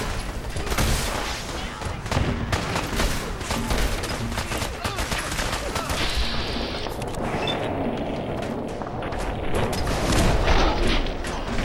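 Dense, continuous gunfire and booming blasts from a missile explosion in Fallout 4, a loud chaotic barrage filling the whole stretch with no talk.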